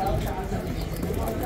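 Pigeons coo steadily at a crowded Baghdad pigeon market, mixed with continuous background chatter and bustle.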